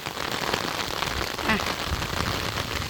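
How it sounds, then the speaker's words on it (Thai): Soft, steady rain patters evenly on a field of flowering sunn hemp throughout, a diffuse hiss of drops with a brief faint chirp partway through. "บรรยากาศ ฝน ตกต้นไม้ ได้รับน้ำฝนแล้วนะคะ"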